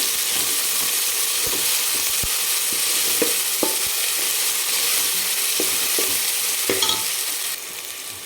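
Onions sautéing with ginger-garlic paste in a pan for a Solapur-style dal chawal, giving a steady close sizzle with occasional stirring scrapes and clicks throughout.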